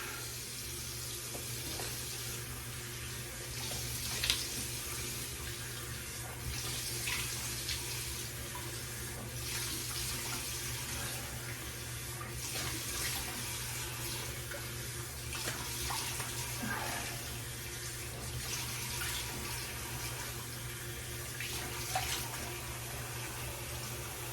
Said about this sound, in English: let's go ahead and splash some water on my face